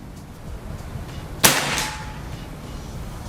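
A single sharp crack from a PCP air rifle fired at a shooting session, one brief loud report with a short ringing tail, set against a quiet background.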